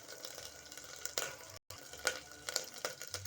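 Fennel seeds crackle faintly in melted butter in a pan for pav bhaji, a quiet sizzle with a few sharper pops and a brief clink of a utensil.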